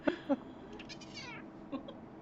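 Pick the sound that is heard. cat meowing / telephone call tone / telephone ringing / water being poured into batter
cat meowing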